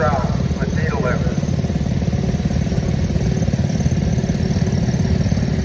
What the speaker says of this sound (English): John Deere 110 garden tractor built in 1965, owned by Marnie Shade of Cambridge Springs,